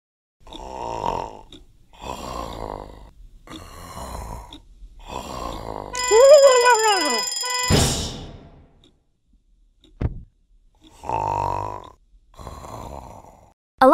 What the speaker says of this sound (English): An alarm is a loud sound that tells you to do something, like move over for a fire truck or wake up to go to school